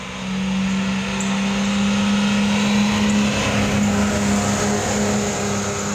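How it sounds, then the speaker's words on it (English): A loud car engine, apparently in poor condition, holds a strong steady droning tone nearby for several seconds, with no speech over it. "Damn, that car is about to blow up."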